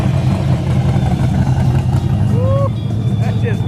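Cars drag racing and drifting at a street car meet roar with constant engine noise, and a brief tire squeal cuts through near the end, while indistinct crowd voices murmur underneath.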